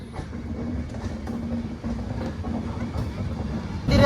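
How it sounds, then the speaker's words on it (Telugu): Janmabhoomi Superfast Express pulling out of Guntur Junction, heard as a continuous low rumble with steady rolling and clattering, close and loud, swelling sharply at the end. "గుంటూరు జంక్షన్ నుంచి మన ట్రైన్ అయితే బయలుదేరింది చూశారు కదా"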